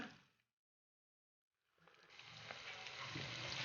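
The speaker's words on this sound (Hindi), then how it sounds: "आपने प्याज को इसी तरह आग थोड़ी तेज रखकर आपने प्याज को ब्राउन कर लेना है।" Onions sizzle in hot oil over high heat as they brown for chicken biryani, a soft frying hiss that cuts out briefly and then returns, growing steadily fuller and louder, with no talking.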